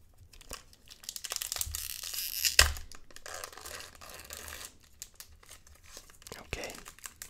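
Crinkling and tearing of the foil wrapper on a Pokémon Sun and Moon Crimson Invasion card pack, close and quiet, with a sharp rip midway and soft rustling handling around it.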